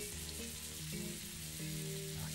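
Veal kidneys searing in hot butter in a pan, a continuous close sizzle and crackle with a steady hiss, no talking over it.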